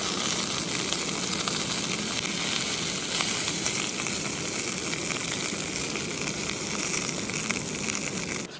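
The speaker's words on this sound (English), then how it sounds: "Just waiting for the sausages to cook all the way through now." Sausages frying in a pan over an outdoor firebox at a highland camp, a steady loud close sizzle and spitting that holds evenly for over eight seconds with no voices.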